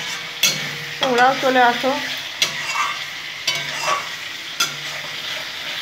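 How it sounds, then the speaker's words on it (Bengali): Egg curry masala stirred and fried in a pan, with repeated spatula scrapes and knocks against the metal over a steady sizzle, while someone talks briefly. "খুব ভালো করে কষে নেব।"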